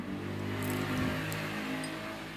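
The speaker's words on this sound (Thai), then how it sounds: "ออภัยนะคะมีเสียง รถผ่านนะคะ" A car passes by outside as a faint, steady engine hum that swells slightly and then fades away.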